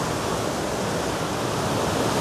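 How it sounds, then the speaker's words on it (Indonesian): Curug Sabuk waterfall in Sumedang crashing down, a dense, constant roar of falling water heard up close with no pauses. "Tak akan bosan berlama-lama berada di bawah hempasan air terjun ini"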